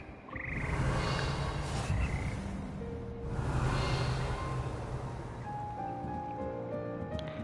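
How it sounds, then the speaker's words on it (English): Frog choir croaking in the video game Hogwarts Legacy: a dense chorus of croaks and chirps over a washing, surf-like ambient background, moderately quiet with no talking. "I found out why I hear frogs. It's the frog choir."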